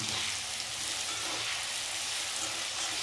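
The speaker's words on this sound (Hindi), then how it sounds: "अब प्याज को हम हल्का सा सुनहरा होने तक भूनेंगे" Chopped onion sizzles and fries steadily in a hot pan with lightly toasted garlic, a continuous close, even crackle with no talking.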